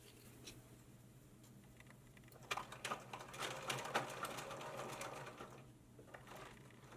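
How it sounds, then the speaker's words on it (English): Sewing machine stitching a box with an X through it on a simple tote bag, quiet at first, then several short bursts of rapid needle chatter separated by brief pauses for pivoting. "I am now going to go to my machine and using my needle down to pivot on each one, 1, 2, 3, 4, I am going to sew a box and then an X through the box."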